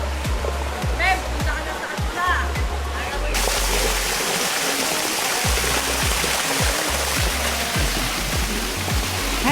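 Water rushes steadily at a dam in Tanay, Rizal, forming a broad, constant wash with the microphone close, while voices speak intermittently over it.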